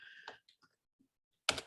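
A few faint, sparse keystrokes clack on a computer keyboard, followed by one louder, sharper key press at the end.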